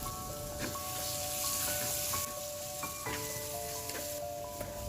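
Vinegar-soaked chilies hit hot oil with ginger and garlic for a sardine pickle, sizzling and crackling steadily up close with occasional stirring scrapes and no talking.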